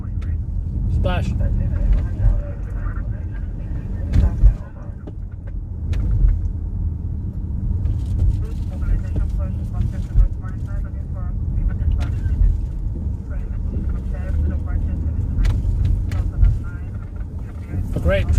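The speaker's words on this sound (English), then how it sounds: "Great traffic on the Brooklyn Bridge." Road traffic rumbles across the Brooklyn Bridge in New York City, a steady low roar of cars with wind buffeting the microphone and a few sharp knocks, while someone talks over it.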